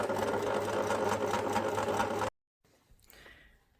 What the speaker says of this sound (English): So I'm now sewing my outer arm to my inner arm fabric.